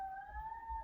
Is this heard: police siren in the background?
yes